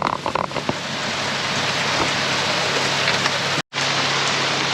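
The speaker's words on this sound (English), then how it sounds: "Pouring down rain" Heavy rain pours down in a wet-season storm on a fishing boat out in the Gulf, a loud, steady hiss of drops on the deck and water. It breaks off briefly near the end, then resumes.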